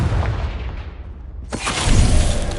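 Confringo blasting spell from Hogwarts Legacy: a whooshing cast followed by a sharp burst and a rumbling boom, moderately loud, with no speech.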